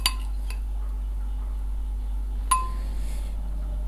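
A spoon clinks against a dish while onion rings are coated with egg, two sharp metallic taps about two and a half seconds apart, with faint stirring and handling between them and no talking.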